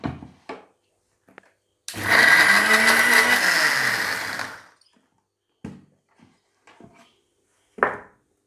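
A blender grinds fried onion, cashews and almonds with water in one loud whirring burst of about two and a half seconds, winding down at the end, with short clicks and handling knocks before and after.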